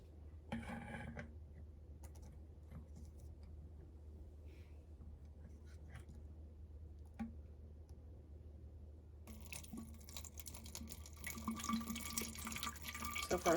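Water trickles and splashes into the bottom container of a homemade Heron's fountain, a steady faint running flow with occasional drips that grows brighter and louder toward the end.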